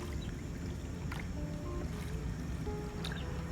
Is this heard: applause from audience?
no